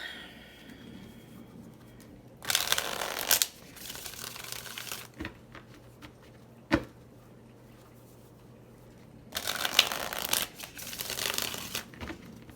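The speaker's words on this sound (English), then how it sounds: "One more shuffle." Tarot cards riffle and shuffle in two brisk bursts, close and crisp, with quieter handling and a soft tap between them.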